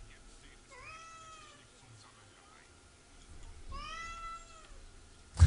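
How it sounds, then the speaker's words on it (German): A pet cat meows twice, drawn-out rising and falling cries a few seconds apart, fairly close in an otherwise quiet room with faint background noise. "Meine Katze, ey, das ist ein nervtötendes Biest"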